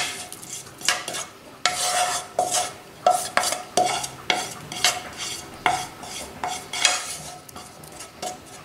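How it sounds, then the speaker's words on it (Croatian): Stewed onion tipped into meat in a pan and stirred, the spoon scraping and clinking against the pan in a steady series of sharp, close strokes roughly every half second, with a soft sizzle underneath and no talking. "E sad ćemo u to meso da istresemo taj izdinstan luk"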